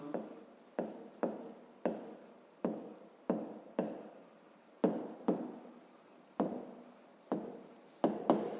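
Numbers written by hand on paper make a run of about sixteen short, evenly paced pen strokes, each a crisp scratch that fades quickly, close and quiet with no talking.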